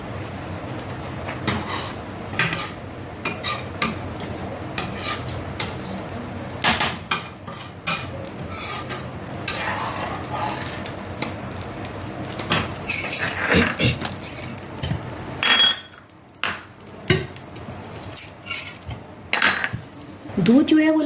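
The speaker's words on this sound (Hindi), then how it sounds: "तो अभी हम इसको भूनने का प्रोसेस शुरू कर देते हैं।" Sago, peanut and makhana powder roasting in desi ghee in a pan, with a metal spoon scraping and clinking against the pot in irregular bursts, close by, and brief pauses between strokes.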